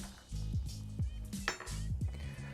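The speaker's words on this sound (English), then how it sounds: "we're gonna give this just a bit of a basic stir, just to mix it all together" A basic stir of a Royal Gin Spritz cocktail in a glass, with repeated spoon clinks against the glass in a quick rhythm over a low background hum.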